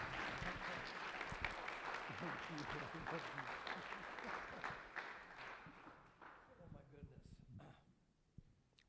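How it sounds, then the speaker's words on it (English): Church congregation applauding at a Sunday service, a steady broadband clatter of many hands for about six seconds before it thins out, with speech mixed into the crowd noise. "give him a round of applause"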